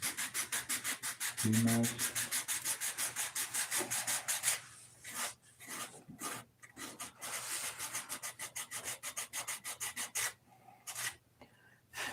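Sandpaper rubs back and forth on a wooden object to wear a hole through it, making loud, close, rhythmic rasping strokes with brief pauses. A voice speaks briefly partway through.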